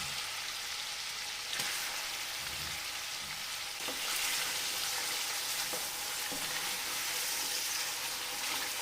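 Mutton pieces drop into hot oil in a karahi for kali mirch mutton karahi. A loud, steady hiss of frying runs throughout, with occasional stirring clinks and a swell in intensity partway through, close and unbroken.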